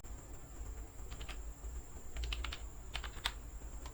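Typing a password on a computer keyboard: faint, quick clusters of light key clicks in short irregular bursts over a steady background hiss.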